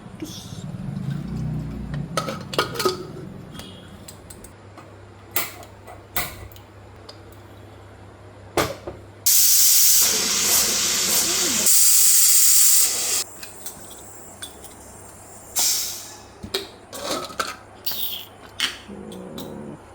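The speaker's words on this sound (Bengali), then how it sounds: "অল্প পরিমাণ লবণ দিয়ে দিয়ে এটাকে দুটো সিটি মেরে নেব" Pressure cooker on a stove boiling chickpeas with salt and turmeric, releasing a loud sustained steam whistle for several seconds midway, with scattered clicks and rattles before and after.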